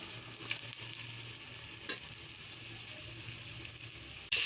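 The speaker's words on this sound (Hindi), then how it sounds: "हमने गोश्त को थोड़ा फ्राई कर लिया है" Meat sizzling and frying in a pan with garlic, ginger and onion while being stirred for palak gosht, a steady close crackle with occasional scrapes.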